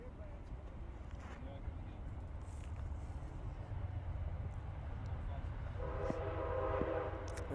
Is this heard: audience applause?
no